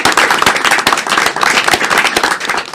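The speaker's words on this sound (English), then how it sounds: "we should give them a round of applause" A courtroom crowd claps for a jury in a loud, close burst of dense clapping with sharp, uneven hand strikes throughout.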